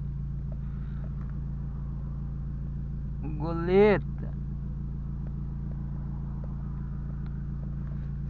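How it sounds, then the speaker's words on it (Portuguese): A car's engine drones steadily from inside the cabin as it drives, a constant low rumble throughout, with someone briefly speaking over it midway. "dando aquele rolê bacana de carro"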